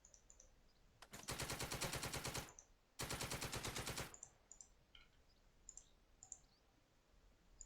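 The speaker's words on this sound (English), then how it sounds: "Heavy machine gun." Heavy machine gun in a village battle in the video game Second Front fires two long sustained bursts of rapid, evenly spaced shots, each lasting about a second, between quieter scattered clicks and beeps.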